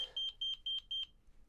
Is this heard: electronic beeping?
yes